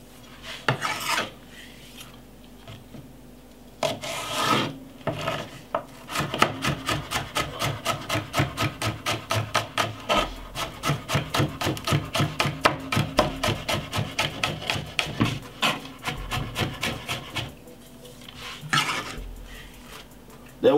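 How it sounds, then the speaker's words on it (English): A knife finely chops a spring onion on a board in a fast, even run of close, crisp strokes, with a few slower cuts before and after the steady rhythm. "I'm just going to cut up one spring onion. Very finely."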